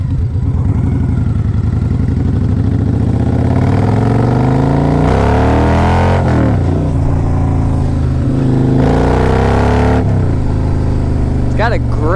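A 2006 Victory Kingpin motorcycle engine with 14,067 miles revs up and settles in loud, close swells, its deep throbbing idle rising in pitch during each of several throttle blips.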